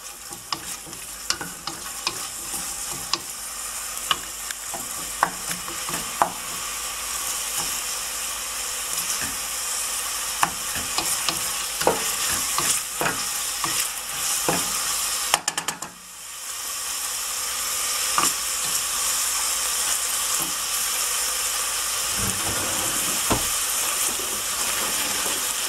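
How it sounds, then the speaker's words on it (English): Onions frying with dried garam masala in a pot for paya soup, a continuous close sizzle and hiss with frequent clicking scrapes of a stirring spoon, briefly dipping midway before the frying swells again. "when this onions are getting fried, I'm gonna add this dried garam masala"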